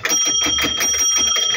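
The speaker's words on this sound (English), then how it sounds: "there you go, the bell works" A bicycle bell on an old bicycle at a weekly walkaround auction rings in a rapid, continuous run of bright metallic dings, loud and close, with no talking.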